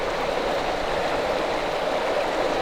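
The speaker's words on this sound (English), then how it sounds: "Well, I made it to the creek" A woodland creek rushes steadily, a dense, even wash of flowing water heard up close and fairly loud, with no voices.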